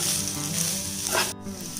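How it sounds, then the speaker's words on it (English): Onions, garlic, grated coconut and cardamom fry in oil in a pan for a crab curry, giving a steady loud sizzle with a brief stirring scrape near the end. "I'm now going to be mixing this and frying it until the onions become nice and soft."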